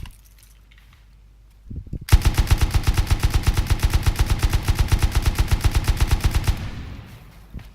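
Rapid automatic gunfire from a weapon in the game Rust, a loud, evenly spaced burst of dozens of shots lasting several seconds after a short pause, then fading into a quiet tail.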